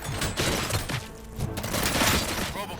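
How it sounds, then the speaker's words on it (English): Rapid bursts of robot gunfire crackle through a standoff, a dense clatter of shots and impacts continuing over about three seconds with faint voices mixed in. "Gunshots?"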